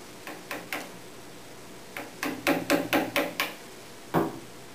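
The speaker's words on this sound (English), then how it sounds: "Now I'll use a 6mm number 7 gouge to just" A 6mm number 7 gouge carves wood on a fireplace mantel, giving a string of sharp tapping cuts: a few spaced strikes, then a quicker run of six or so, and one final knock, close and clear.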